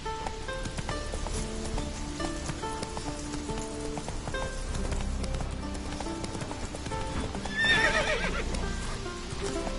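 Roach, Geralt's horse in The Witcher 3 video game, whinnies while hooves clip-clop steadily at a gallop, with rain-like hiss in the background.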